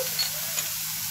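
An egg frying in hot oil in a pan for a kofta and egg burger, giving a steady, close hiss of fine crackle that runs evenly through the whole short stretch, with no voices.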